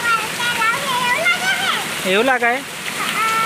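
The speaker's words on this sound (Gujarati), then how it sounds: "અત્યારે વરસાદ બહુ જ બરોબરનો ચાલુ થઈ ગયો છે" Heavy first monsoon rain pours down in a steady hiss beneath a close, loud voice.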